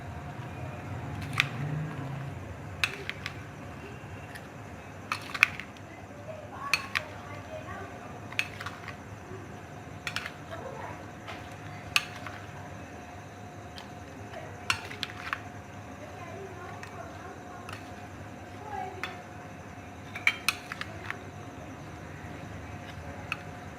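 A spoon mixes chickpea chaat in a bowl, giving light, scattered clinks against the dish over a steady low room hum.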